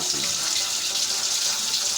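Water is poured into a large cooking pot (deg) while making Peshawari deghi pulao, a steady, even rushing and splashing stream that runs without a break.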